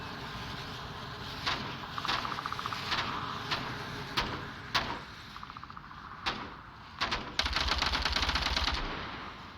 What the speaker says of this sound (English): Exchange of gunfire.